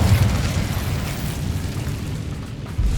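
Casting the Incendio fire spell in Hogwarts Legacy releases a loud, steady roaring whoosh of flame like an eruption. It holds at full strength for a few seconds and swells briefly near the end.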